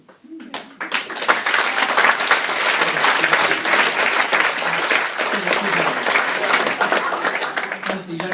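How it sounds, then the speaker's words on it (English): Audience applauding during a wedding speech, a dense, sustained burst of clapping that swells quickly and holds steady for several seconds, with voices mixed in beneath. "you don't need to feel you need to clap for everything"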